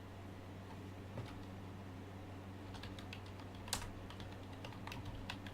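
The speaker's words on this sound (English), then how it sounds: "Sorry, I'm just typing." Faint typing on a computer keyboard, soft scattered key clicks that quicken into a steadier run, close but quiet over a low room hum.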